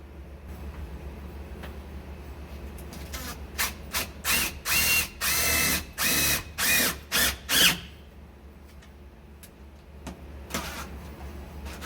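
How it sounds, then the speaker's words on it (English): A power drill drives self-tapping screws to cut small pilot holes in a bug shop. Several short loud whirring bursts come in a quick rhythm, then the sound stops, leaving quiet background. "I'm just going to run a couple self-tapping screws in there to get little pilot holes"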